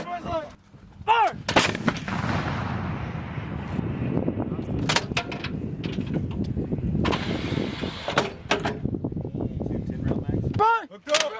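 Marine artillery guns firing during Exercise Rolling Thunder, several loud booming blasts with long rumbling echoes across open ground, with shouted commands between rounds.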